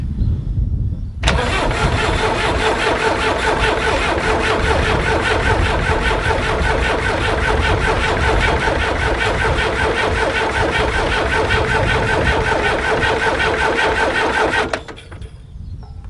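A loud tractor engine cranks and turns over continuously for over ten seconds with a steady rhythmic chugging, then cuts off abruptly.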